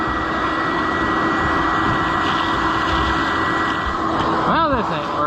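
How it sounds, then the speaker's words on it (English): Shop vac running during a farm equipment repair, giving a loud, steady whooshing drone throughout with a person talking over it. "Turns out I don't have any attachments for my shop vac anymore."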